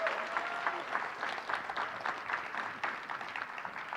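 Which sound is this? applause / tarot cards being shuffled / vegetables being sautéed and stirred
applause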